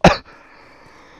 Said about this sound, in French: je me remets à tousser